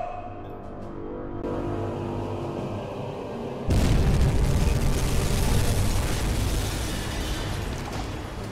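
A torpedo explodes against a ship in the submarine game UBOAT, a loud deep boom that hits about midway and rolls on as a broad, sustained rumble, following a quieter stretch of low game ambience.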